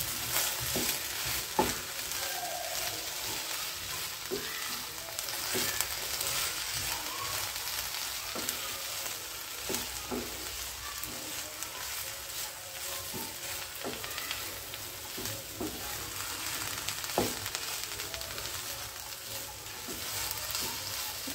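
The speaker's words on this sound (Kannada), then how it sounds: "ಹಸಿ ವಾಸನೆ ತೆಂಗಿನ ತುರಿದು ಹೋಗೋವರೆಗೂ ಚೆನ್ನಾಗಿ ಫ್ರೈ ಆಗಬೇಕು" Masala powder and fresh grated coconut fry in a pan with a continuous, close sizzle, while a spatula stirs and taps now and then at a steady, unhurried pace.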